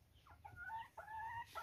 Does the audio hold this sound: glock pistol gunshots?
no